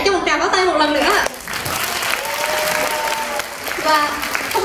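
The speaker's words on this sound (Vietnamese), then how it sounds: "xin các mọi khán giả cho một tràng pháo tay một lần nữa" An audience at a Vietnamese student cultural show's closing curtain call breaks into dense, steady applause, following a voice and with voices heard over the clapping near the end.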